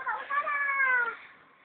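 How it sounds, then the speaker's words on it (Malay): A cat gives one clear, close meow, drawn out and falling in pitch, then fading away, with no other noise around it. "Ini dah kucing ni."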